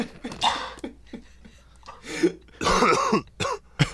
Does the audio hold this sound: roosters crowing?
no